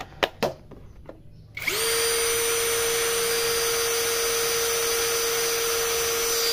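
After a few sharp clicks, a 10mm impact drill on its stock battery spins up unloaded into a loud, steady high-pitched whine that holds constant at close range with no speech.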